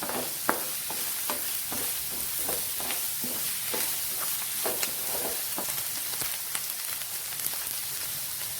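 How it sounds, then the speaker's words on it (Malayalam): Garlic paste and fish masala for a Kerala karimeen pan-fry sauté in a pan, with a constant sizzle and regular scraping stirs roughly every half second, heard close up. "ഇത് നല്ലപോലെ നമുക്കൊന്ന് വഴറ്റിയെടുക്കാം."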